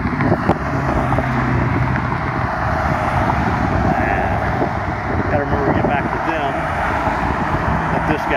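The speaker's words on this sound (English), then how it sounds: "Guy come because he's driving like a bat out of hell." A car speeds past on a Baker Street city street in Tulsa, a steady loud engine and road roar filling the whole stretch over continuous traffic hum, with a voice talking over it.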